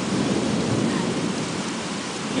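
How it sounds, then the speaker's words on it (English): Heavy rain pours down steadily in a thunderstorm in Singapore, a dense and continuous broadband roar with low thunder rumbling beneath it, with no voices. "Oh, and here comes the real rain."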